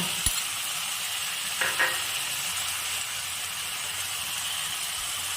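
Onion paste, garlic paste and turmeric powder fry in a hot pan with a steady close sizzle and hiss, broken early on by a couple of quick metallic clinks from a spoon.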